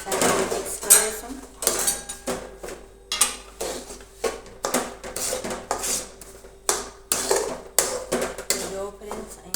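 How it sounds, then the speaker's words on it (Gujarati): Sesame seeds are stirred into jaggery syrup in a pan off the flame, with a spoon clanking and scraping against the metal in quick, uneven rhythmic strokes close by. "ચાસણી થઈ ગઈ છે અને હવે આપણે તલ નાખી દઈશું."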